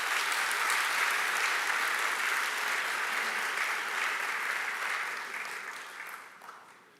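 A large conference audience applauds the Inter-American Development Bank at a Jamaica investment business event, a dense, steady wash of clapping that holds strong for several seconds, then thins and fades out toward the end.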